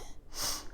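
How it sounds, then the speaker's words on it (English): One short, close nasal sniffle, a quick breathy intake through the nose, faint and brief. "I'm also sorry if you keep hearing me sniffle"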